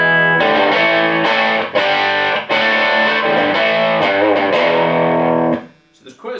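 Electric guitar played through a Soldano Astroverb 16 1x12 combo amp set to a bright tone with presence turned up, loud sustained chords with crisp, ringing treble, restruck a few times before fading out.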